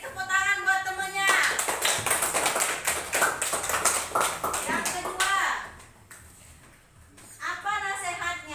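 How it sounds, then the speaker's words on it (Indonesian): Children in a classroom give a burst of clapping for a classmate, lasting several seconds, with a child's and a teacher's voice speaking over it. "Yuk, beri tepuk tangan buat temennya."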